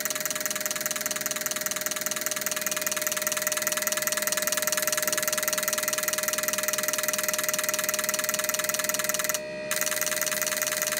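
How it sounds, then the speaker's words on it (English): Fuel injectors pulse on an ASNU injector tester at 600 RPM with a 6 millisecond opening time, giving a steady, loud, continuous buzzing drone with a constant tone and no break in rhythm apart from a brief dip near the end. "We've now changed on to 600 RPM again, but with 6 milliseconds, so we're opening the injectors longer this time."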